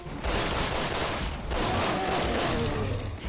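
Dense, continuous gunfire in the Resident Evil 6 video game, with the Chris and Piers campaign under way. Shots and explosions run together in a loud, sustained fusillade that barely lets up across the whole stretch.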